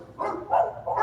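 A dog barks three times in quick succession, muffled and somewhat distant, with short, rough, mid-pitched woofs over a quiet room background.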